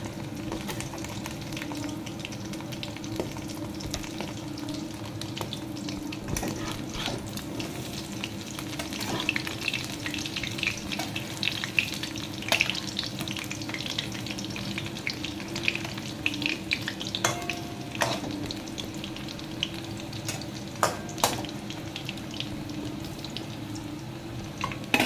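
Fish roe fritters mixed with green chili, onion and gram flour frying in oil, a steady crackling sizzle throughout with scattered sharper pops and spatters, close and moderately loud, no voices.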